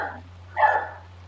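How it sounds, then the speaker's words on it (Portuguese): A dog barks once inside a room, a single short, fairly loud bark close by over a low steady hum, with no voices. "Entrou um cachorro."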